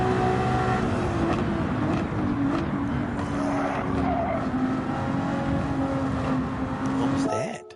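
Race car engine droning steadily with tire skidding in a racing game, a loud sustained engine whine with squealing tires, cutting off abruptly at the end, with a voice talking underneath.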